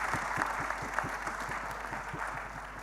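An audience at a design debate panel session in Surat breaks into lively, continuous applause, many hands clapping at once in an even, sustained burst.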